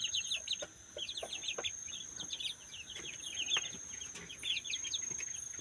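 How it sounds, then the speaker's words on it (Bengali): A flock of tiger chickens clucks steadily while being fed, with many overlapping short calls at close range. A faint, constant insect drone hums in the background. "এখন আমি খাবার দেবো আমার মুরগিগুলোকে।"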